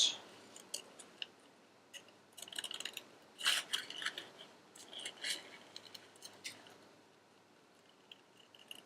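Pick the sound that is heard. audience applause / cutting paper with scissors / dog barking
cutting paper with scissors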